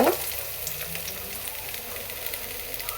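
Chopped carrots and beans fry in a spoonful of ghee in a hot pan, giving a steady, fairly soft sizzle and crackle that runs throughout with no talking.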